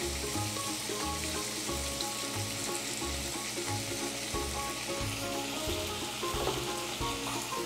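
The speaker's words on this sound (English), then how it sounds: "you just want to continue stirring it until you can fry it a bit" Philly cheesesteak filling with seasoning, salt and garlic frying in a pan and being stirred, a steady close sizzle with rhythmic scraping strokes, no voices.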